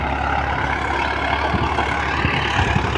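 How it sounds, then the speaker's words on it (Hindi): A Farmtrac 60 tractor under load, pulling a 10 ft rotavator through a field, gives a steady, loud low diesel drone with a constant engine hum and slight irregular knocks, close by and with no one talking. "काफी बढ़िया चल रहा है भाई ट्रैक्टर, बिल्कुल भी दाब नहीं मान रहा, लिफ्ट पूरी गिर रखी है।"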